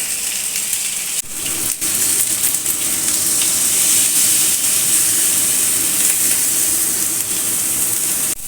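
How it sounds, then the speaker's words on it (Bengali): Pointed gourds fry on high flame in mustard oil and ghee, giving a loud, continuous, close sizzle with dense hissing that holds steady throughout, with only a brief dip near the start. "পটলগুলো আমি এবার হাই ফ্লেমে ভেজে নেব।"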